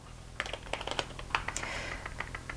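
Typing on an iPad Pro Smart Keyboard case, soft irregular clicks and taps in quick bursts, close and quiet with no talk.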